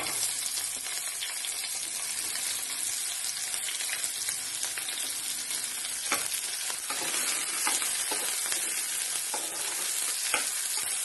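Onion and green chilli hiss hard in hot tempering oil with garlic and seasoning seeds, a dense, continuous, close sizzle dotted with small pops and spatula clicks, no voices.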